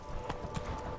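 Geralt's horse Roach gallops in The Witcher 3 video game, a quick run of hoofbeat clip-clops heard close and fairly quiet over a faint background.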